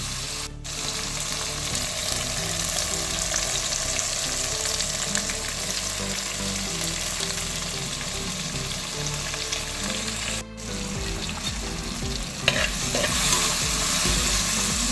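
Okra sautéed with masala powders in a pan for sambar, a steady close sizzle with continuous stirring and spatula scrapes throughout, no voices.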